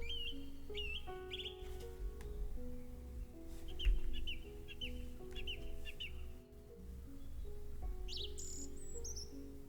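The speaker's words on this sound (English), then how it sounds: "This sound effect of the birds is very loud." Loud birdsong effect in The House in Fata Morgana, with repeated chirps and tweets over a steady musical soundtrack, a denser burst of calls near the middle and higher trills toward the end.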